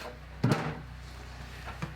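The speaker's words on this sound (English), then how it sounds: "There's a lot of play in the door because the door just popped off." The door of an old refrigerator pops off its hinges with one loud, close clunk, followed a moment later by a faint second knock over a low steady hum.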